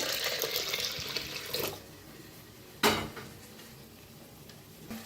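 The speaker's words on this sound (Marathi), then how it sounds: "आता गरम पाणी या डाळीत ओतूया" Hot water pours into thick lentils in a pot with a steady rushing splash for about a second and a half, then stops; a sharp clink of the pot follows.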